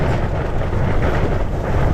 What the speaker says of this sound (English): Oh, the wind's really getting up now.